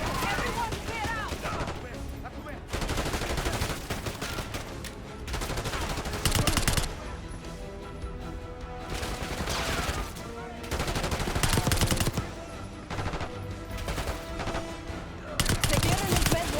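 Dense gunfire in the video game Call of Duty Black Ops 6, with sustained bursts and rattling fusillades under a constant din, overlaid by shouting voices and game music.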